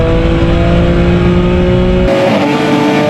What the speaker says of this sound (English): Oh, massive wheel spin. Massive wheel spin.